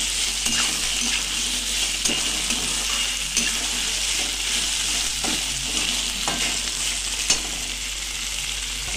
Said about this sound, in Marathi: दोन बटाटे उभे कापून घेतलेले ते टाकते.